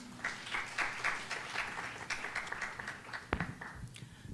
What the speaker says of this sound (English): So I would love to give everybody a round of applause again.